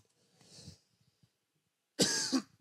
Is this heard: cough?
yes